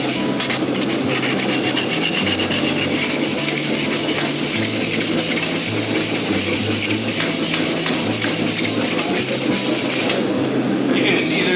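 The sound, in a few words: sanding a horse hoof with abrasive grit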